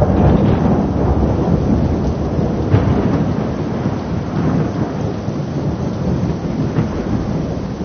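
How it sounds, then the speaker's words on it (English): Heavy rain pours steadily during a thunderstorm over an African river, with several rolls of thunder rumbling through the dense, loud downpour. "In October, the first storms of summer"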